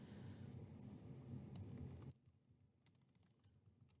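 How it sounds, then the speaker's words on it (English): Computer keyboard typing, a steady dense patter of keystrokes at close range for about two seconds under a broad background hiss, then a few scattered lighter key taps over quieter room tone. "I'm going to type my answer."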